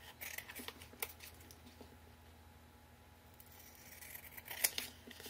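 Scissors trimming the back of an artist trading card, giving a few soft, close snips near the start, around one second and again near the end, with quiet handling in between and no talk.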